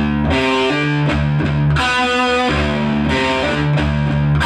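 A loud, heavily distorted electric guitar repeats a riff, with punchy sliding notes and chugging low strings in a steady rhythmic pattern.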